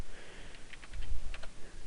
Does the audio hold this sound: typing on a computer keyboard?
yes